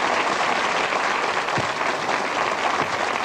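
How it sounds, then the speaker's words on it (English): Audience at a Blackpool magic club show clapping after a trick, a dense, even wash of applause filling the whole few seconds with no voices on top. "I deserve some applause for that"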